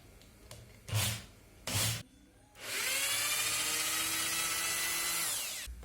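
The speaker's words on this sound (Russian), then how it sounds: "Теперь просверливаю отверстие." A drill bores a hole in plastic for a parking-light conversion in a turn signal, whining steadily for about three seconds after two short thumps, up close.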